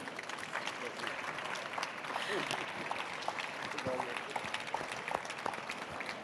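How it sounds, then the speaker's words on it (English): A conference audience applauds the panelists after a session on desertification and biodiversity, steady sustained clapping throughout, moderately distant in a hall. "Please give my panelists a warm round of applause"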